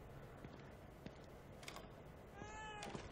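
Cat meowing in a horror video game, a few short faint mews over a quiet hum, with a higher drawn-out meow near the end.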